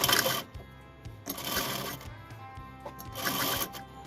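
A sewing machine stitching lace onto a kurti, running in three short bursts of rapid whirring needle clatter, close and clear, separated by brief pauses.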